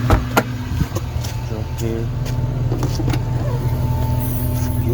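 Stock exhaust of a car engine idling steadily up close, a low rumble running throughout, with someone briefly speaking over it and a few clicks and rattles near the start.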